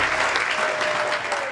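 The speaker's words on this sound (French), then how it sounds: "Je pense que ça s'applaudit encore." A studio audience applauds on a television talk-show set, steady dense clapping throughout at a loud, even level with no talk over it.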